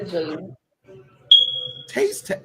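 A smoke alarm gives one sharp, high, steady electronic chirp for a low battery, clearly audible between stretches of talking that come before and after it.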